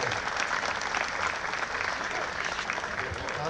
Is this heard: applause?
yes